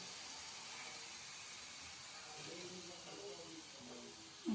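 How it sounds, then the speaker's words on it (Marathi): Shankarpali sweets frying in hot oil, a steady soft hiss and bubbling that stays quiet and even throughout, with a brief louder bump right at the end. "अशा प्रकारे मी सर्व शंकरपाळ्या तळून घेते"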